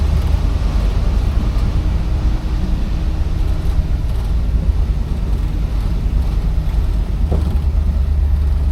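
A 1961 Cadillac Series 62 with the top down rolls along on a test drive, its engine a loud low rumble blended with heavy rushing wind across the microphone, steady throughout.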